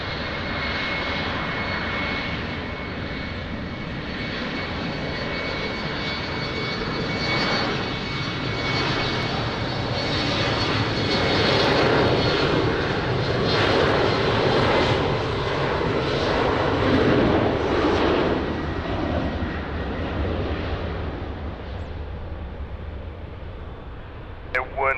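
A fixed-wing aircraft landing at Lisbon Airport, its engine roar a steady broadband rumble that swells slightly mid-pass and holds loud for the whole stretch, with faint radio talk underneath.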